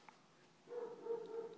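After a quiet moment, a dog indoors lets out a short burst of barking or whining, faint to moderate and close by.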